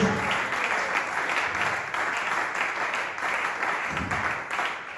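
A church congregation applauds steadily during a Bible study, dense clapping filling the whole stretch with a sustained, fairly loud roar of hands.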